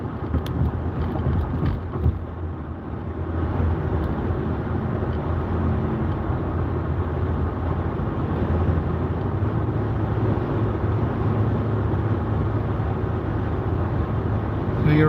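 A 2019 Jeep Wrangler Sport Altitude with a six-cylinder Pentastar engine cruises on the highway. Heard from inside, a constant low road and engine drone mixes with wind noise and holds steady throughout.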